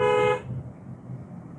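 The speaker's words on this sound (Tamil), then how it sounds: "ஒரு தடவை ஹார்ன் அடிச்சிருங்க" A single loud car horn blast, sounded from inside the car during a driving lesson, sustained for a moment and then cut off, leaving low road and engine rumble behind.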